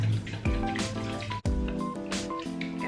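Vegetable stock pours from a bowl into a pot for a vegan vegetable soup, a close liquid splashing and gurgling with falling watery pitches and a brief interruption midway.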